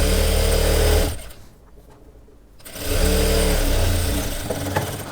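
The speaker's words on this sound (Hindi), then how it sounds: "तो इस सिलाई को हम कंप्लीट कर लेंगे।" A sewing machine stitches a sharara in a rapid, close mechanical whir that runs for a second, drops off briefly, then starts up again and keeps running to the end.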